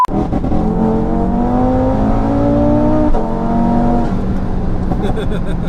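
A 740bhp Audi RS3 engine accelerating hard, loud and close from inside the car, its rising drone climbing steadily through the revs with a brief dip at a gear change before pulling again.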